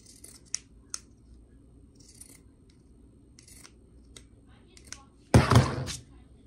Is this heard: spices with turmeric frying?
no